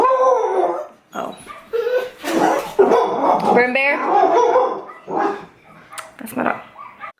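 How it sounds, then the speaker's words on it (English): A dog barks in short bursts indoors, close and loud, mixed with yips and whimpers while a person speaks briefly over it. "That's my dog."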